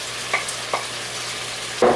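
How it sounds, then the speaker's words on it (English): Eggs stir-frying with tomatoes and their juice in a pan give a steady close sizzle, punctuated by a few light scrapes of a utensil and a louder stirring clatter near the end. "Now all you gotta do is toss the eggs in."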